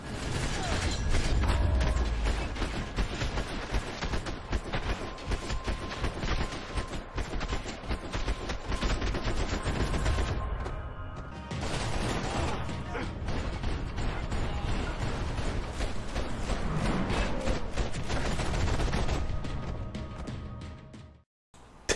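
Dense, loud gunfire and mechanical clatter from the violent shooter Max Payne 3, sustained almost throughout with a brief lull near the middle and a sudden drop at the end.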